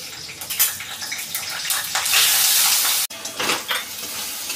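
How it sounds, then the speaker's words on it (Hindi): Fish frying in a pan while a home cook prepares a prawn dish, with a steady loud sizzle and hiss that swells midway, then cuts briefly before carrying on. No one speaks. "अभी ये जब तक उबलता है तो मैं तब तक फिश फ्राई कर लेती हूँ।"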